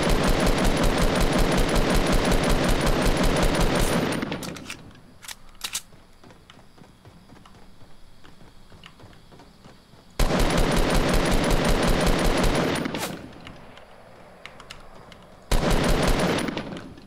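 Rapid automatic gunfire in Fortnite Battle Royale, loud close bursts of fast, evenly spaced shots lasting several seconds each, separated by quieter stretches with a few isolated clicks and shots.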